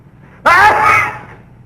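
A single sneeze in a comic fantasy film scene, bursting out suddenly and loudly close by, then tailing off with a voiced, breathy trail.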